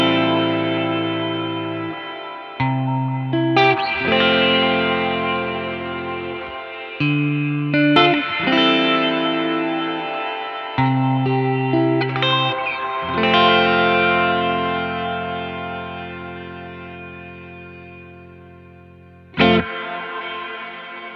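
An Old Blood Noise Endeavors Dark Light reverb pedal on its light side in pass mode, with chords swelling into a lush, shimmering wash that sustains and blooms between changes, ending with a sharp new attack near the close.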